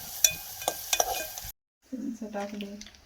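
Onions stirred in a pan, a soft scraping and faint sizzle with light clinks of a spoon against metal, a brief silent gap, then more stirring under a quiet murmur of talk.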